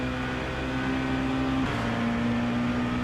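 Volvo S40 BTCC touring car engine in a racing sim at Sachsenring, a loud steady drone that drops abruptly in pitch at a downshift into fourth midway, then holds high revs alone.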